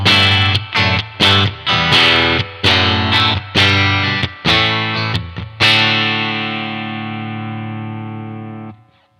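A clean electric guitar played through a UAFX Dream pedal with an Oxford 12-inch speaker emulation sounds out a series of loud, rhythmic chord strums, ending on one sustained chord that rings and slowly fades.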